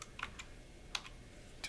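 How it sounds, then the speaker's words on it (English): A few quiet, quick keystrokes on a computer keyboard, typed into an Excel search box, as two or three scattered clicks over a soft background hiss. "to type in QB."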